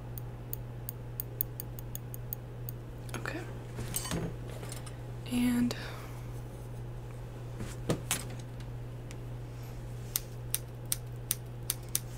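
Sharp scissors snip close up during an ASMR plucking session, making a scattered series of small, crisp clicks over a steady low hum. The sound is quiet and intimate throughout.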